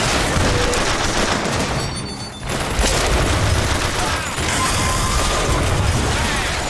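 Dense, continuous turret gunfire and mechanical clatter in Bioshock Infinite, loud and sustained with a brief dip partway through, under a busy game soundscape.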